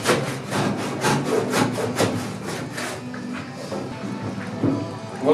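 A hand saw cuts through wood outdoors at a village pig slaughter, about a dozen rhythmic back-and-forth strokes, loud and close, then the sawing stops and quieter handling noises follow.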